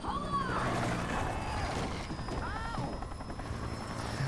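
A helicopter in a horror video game keeps up a steady droning rotor roar throughout, mixed with swooping game effects as birds attack it, with no voices cutting through.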